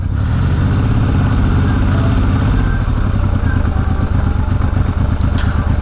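A Yamaha XS750 motorcycle engine runs loud and close, a steady throbbing idle with an even rhythmic pulse throughout, no voices over it.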